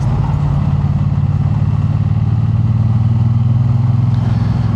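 Motorcycle engine while riding, a loud, steady low throbbing drone close by, unbroken from start to finish.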